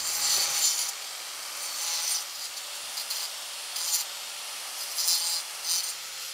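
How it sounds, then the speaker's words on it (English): Grinder worked over the grout lines of a stone wall outdoors, heard as repeated bursts of harsh gritty abrasion with brief lulls between passes, moderately near and without talk. "I just finished running the grinder over the stone wall, just trying to clean up some of the grout lines"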